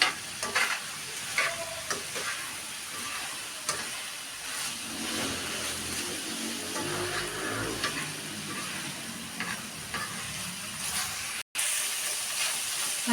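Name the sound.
sautéing onions in a pan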